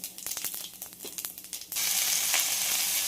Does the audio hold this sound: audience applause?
no